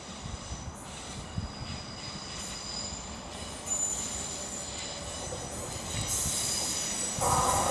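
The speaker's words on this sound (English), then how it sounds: "we've also got coming in the 1824 Avanti West Coast service from Edinburgh to London Euston" An Avanti West Coast passenger service from Edinburgh to London Euston pulls into Stafford station on the West Coast Main Line, a steady rumble of wheels on rail with high squeals building toward the end, no talk.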